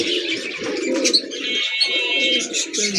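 A pair of pigeons offered for sale cooing up close, soft throaty coos repeating with brief chirps in between, alone and fairly loud.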